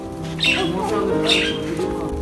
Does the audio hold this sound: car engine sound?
no